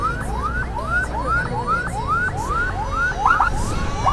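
A motorbike's emergency siren whoops in rapid rising sweeps, about a dozen repeated cycles, loud and close over street traffic noise.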